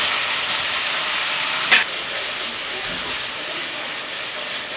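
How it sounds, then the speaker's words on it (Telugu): Mutton minced for keema frying in oil with cloves, a steady loud hiss and sizzle with one brief clatter of stirring midway, close up and without talk. "మటన్ వేసుకొని బాగా వేయించాలి"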